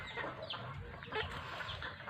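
A sweater roundhead gamecock in a backyard gives brief, quiet clucking calls in short bursts over faint background noise, more like clucks than a full crow.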